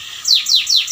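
Yorkshire canary singing up close, three loud rising-and-falling whistled phrases repeated in quick rhythm, clear and alone.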